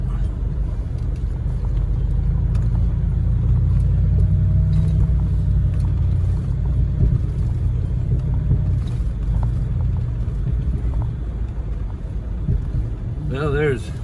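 Steady low engine rumble from inside a moving truck cab, constant and fairly loud throughout, with someone talking over it.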